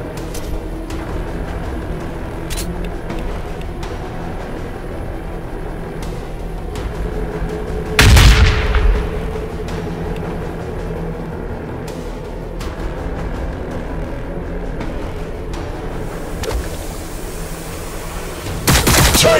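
Gunfire in the sci-fi war game Warhammer 40,000: Battlesector, with scattered sharp shots over a constant battle rumble and one heavy, loud blast with a long decay about midway.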